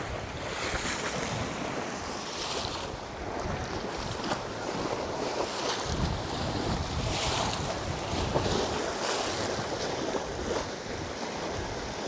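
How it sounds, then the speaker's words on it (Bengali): River waves on a rainy-season day at Diamond Harbour break and wash against an eroding bank, a continuous loud churning roar mixed with strong wind buffeting the microphone. "ঢেউয়ের শব্দ শুনতে আর ঢেউটা দেখতে কিন্তু দারুণ লাগছে।"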